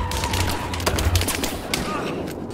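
Rapid gunfire crackles through a Battlefield Hardline firefight, bursts of shots layered over dense battle noise, fairly loud and continuous.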